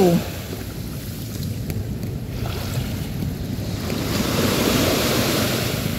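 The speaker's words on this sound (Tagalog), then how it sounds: "Maalon ngayon." Choppy sea waves wash and churn at Manila Bay along a beach with floating debris. The steady watery roar builds slightly toward the end and is mixed with wind rumble against the microphone, with no clear speech.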